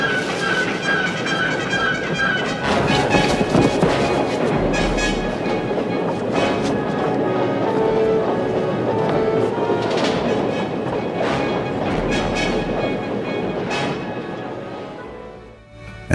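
A train rumbles steadily along the tracks with rhythmic clanking and rattling of wheels and cars, sustained and fairly close.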